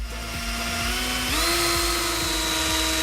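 Electric pump transferring oil through one-meter hoses, a steady motor whine with faint rhythmic ticking that steps up in pitch partway through and then holds, running alone without talk.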